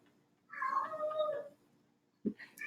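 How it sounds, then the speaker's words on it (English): A cat lets out a drawn-out, wavering meow close by in a quiet room, followed a moment later by a short second cry, with no talking over it. "Sorry if you hear cats in the background."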